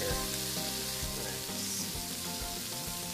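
Onions and shrimp fry in plenty of fat in a pan, giving a steady, close sizzle with soft, regular thuds and scrapes roughly every half second.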